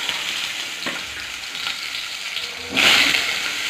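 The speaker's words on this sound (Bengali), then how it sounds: "তারপর সেই তেলের মধ্যে দেওয়া হলো গোটা গোটা করে কেটে রাখা আলু।" Cut potato pieces fry in hot mustard oil tempered with white cumin, a steady close sizzle that surges louder near the end, with no voices.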